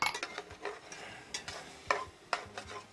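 Salmon croquettes frying in oil in a pan on an induction burner, with a soft, light sizzle broken by several sharp scraping and clicking taps of a utensil against the pan.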